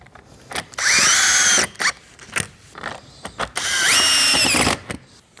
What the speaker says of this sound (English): So now our panel can't come apart anymore, so we'll put the last screws in here.